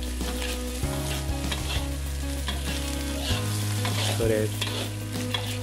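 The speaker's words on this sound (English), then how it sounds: "we put on the shredded stewed chicken and we keep on stirring again for another 2 minutes" Shredded stewed chicken sizzles loudly in a hot pan for chicken capcay while it is stirred continuously, the frying hiss steady and close, with a brief voice over it.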